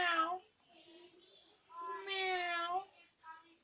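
A man imitates a cat with his voice, giving a few drawn-out meows of varying length, close but fairly soft in a quiet room.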